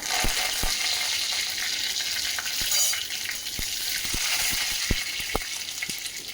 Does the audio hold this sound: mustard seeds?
yes